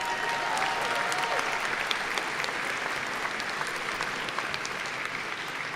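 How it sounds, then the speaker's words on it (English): Steady, dense applause from a commencement crowd at a SUNY Oswego business school graduation, honoring a graduate, filling the hall evenly from start to finish with scattered sharper claps and no speech. "Let's give her a warm applause again."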